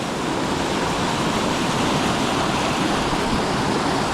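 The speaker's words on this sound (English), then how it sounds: "Another waterfall up right there." Steady, loud rushing water fills the whole clip with constant broadband roar, like a nearby waterfall, with no voices.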